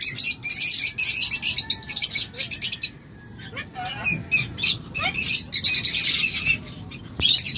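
A pair of umbrella cockatoos kept indoors call with loud, harsh squawks and chirps in bursts, broken by short pauses and some rustling nearby.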